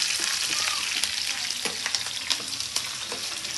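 Sliced onions fry gently in a pan over a low flame, giving a steady soft sizzle with small crackles and pops throughout, heard close and alone without any talking.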